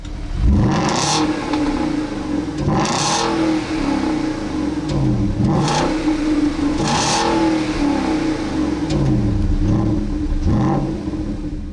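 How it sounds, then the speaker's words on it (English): A 2009 Porsche Cayenne GTS V8 engine revs up several times in a row, each roar climbing then falling back to a steady idle rumble, loud and close. "Take a listen to a couple revs from the GTS."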